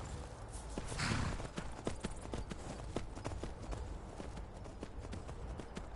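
Horse hooves clip-clop in a quick, steady galloping rhythm in the video game Skyrim, moderately close, with a brief whoosh near the start.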